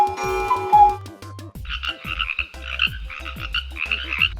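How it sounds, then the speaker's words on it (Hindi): Frogs croak in a chorus of repeated, pulsing calls, some low and throaty, others higher and chirpy, close and clear with no talking. "और ये वाली आवाज मेंढक की।"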